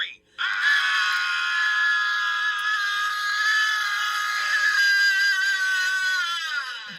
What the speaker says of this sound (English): We're going to scream it together, all right?